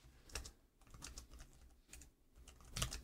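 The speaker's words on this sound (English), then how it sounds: "So I'm going to just type this out." Keys clatter on a computer keyboard in quick uneven bursts with brief pauses, close and moderately quiet, while someone types out code for a Rust and Docker setup.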